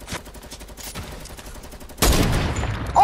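Gunfire rings out in a video game: a loose run of rapid shots, then a heavy, sharp blast near the end of the clip, with no talk.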